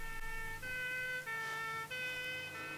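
A steady siren tone from the 1981 film Time Bandits holds throughout, with stable pitched bands and a few brief dips, moderately faint against low background rumble.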